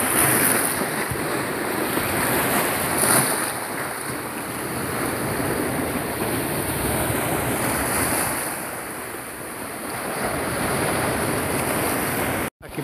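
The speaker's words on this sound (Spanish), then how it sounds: "miren el fuerte oleaje azotando las playas," Strong surf pounds the sand and rocks at Playa Salguero in Santa Marta, a loud continuous roar of breaking waves with wind buffeting the microphone, one swell cresting near the end before an abrupt cut.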